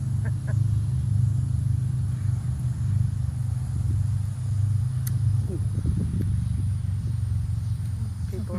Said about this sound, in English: I don't know if those were Harleys or not. They sound like they could have been